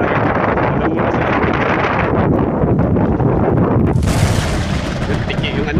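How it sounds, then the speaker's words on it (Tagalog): Strong wind buffets the microphone during heavy rain out on the water, a loud, roaring rumble with gusty bursts, shifting into a harsher, brighter hiss partway through. "Lakas yung hangin sa ulan"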